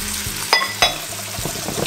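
Wheat flour being stirred into a hot pan while making broccoli cheese soup, heard as a soft sizzle under three or four distinct spoon-against-pan knocks and scrapes, close up and with no speech.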